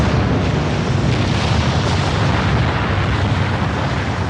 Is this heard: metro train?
no